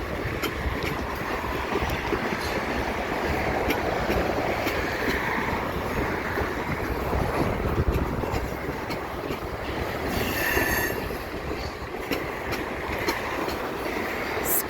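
A freight train on the Dundas Sub in London, Ontario, rolls past close by with a continuous rumble of wagons, rhythmic wheel clatter and brief squealing wheels partway through, no voices.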